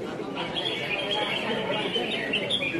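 Caged competition songbirds sing at a bird-singing contest, bright chirping and warbling phrases repeating over a busy crowd murmur, moderately near and continuous.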